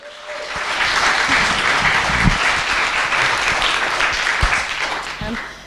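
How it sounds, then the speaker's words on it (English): An indoor audience gives a speaker named Lisa a sustained round of applause, with dense, even clapping from many people that swells in and holds steady before tapering off. "So we're going to give her a huge round of applause."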